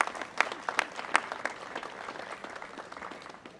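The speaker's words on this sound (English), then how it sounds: "So give yourselves a round of applause for that extraordinary accomplishment" Applause from a gathered group at a press release event, a few sharp individual claps standing out at first, then a softer sustained patter of clapping that gradually thins.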